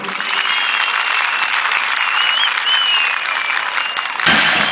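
A crowd at the Domaniç oil wrestling festival applauds for the prime minister, a loud, sustained wash of clapping that runs unbroken for several seconds before cutting off abruptly.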